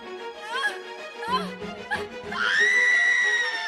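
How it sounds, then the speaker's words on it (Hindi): A woman screams loudly in pain, in several sharp, strained wails that rise into a long high sustained shriek near the end, close and intense. "वह दर्द से बार बार जोर जोर से चीख रही थी"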